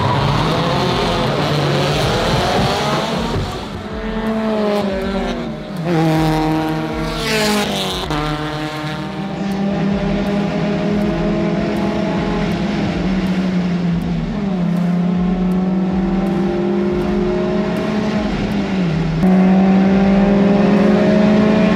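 A Mazda Miata race car's engine roars loud and close during a two-hour endurance race, revs climbing and dropping through repeated gear changes, with other cars droning around it.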